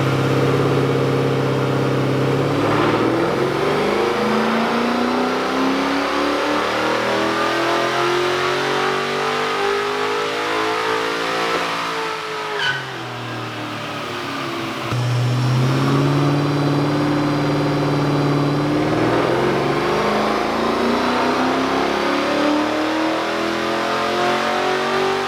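A Chevrolet LS1 V8 with a Tuff street cam revs hard and loud, sweeping up through the range, dipping briefly back down around the middle, then climbing again in long sustained pulls, with no talk.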